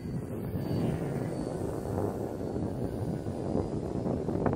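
A 100-inch beginner FPV radio-controlled airplane on its maiden flight makes a faint, steady motor drone, distant and even under broad wind-like noise, with no talking.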